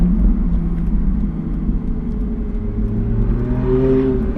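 A car passes on a driving track, its engine rumbling steadily and then rising in pitch as it revs, loud and close with no voices.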